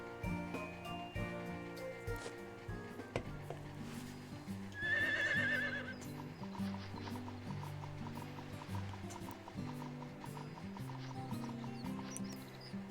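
A horse in the farming video game Harvest Moon gives a loud, clear whinny midway, set over steady looping background game music with small effect sounds.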